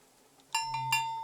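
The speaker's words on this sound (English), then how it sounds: "The sound of this bell has a lot of character." In the video game Season: A Letter to the Future, a bell rings with a few bright metallic strikes, each leaving a long, shimmering ring and a low hum beneath, fairly close and alone without talk.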